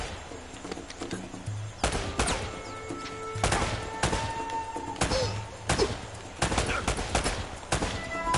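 Gunfire in Uncharted, a string of sharp gunshots and thudding bursts spaced irregularly over a low steady game backdrop, fairly close, with some faint speech mixed in.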